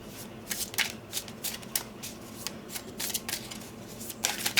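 Golden Tarot of the Renaissance cards being shuffled by hand, a close run of crisp riffling bursts and soft card slaps repeating irregularly, with no talking.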